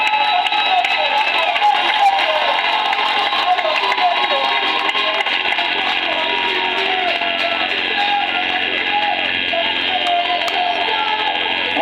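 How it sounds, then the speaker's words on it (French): Crowd at a national service ceremony applauds and cheers for the president of the Republic, a dense, sustained roar of clapping and voices at steady loudness throughout. "Je crois que nous pouvons applaudir pour le président de la République"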